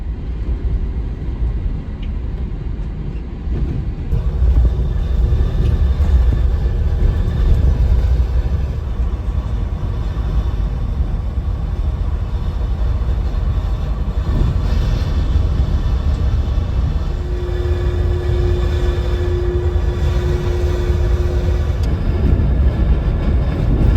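A coach bus travels toward Inverness through the Scottish Highlands during Storm Floris, giving a steady low engine and road rumble heard from inside the cabin, continuous and unchanging.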